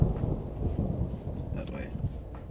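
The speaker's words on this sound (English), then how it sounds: "Is the storm finally passing?" A thunderstorm in the video game Vintage Story, with rain hissing steadily and low thunder rumbling underneath, moderately loud and alone.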